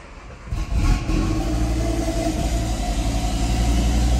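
An Audi TT RS engine idling after fresh Redline oil, starting quieter then rising to a steady, loud, close rumbling hum that holds evenly to the end.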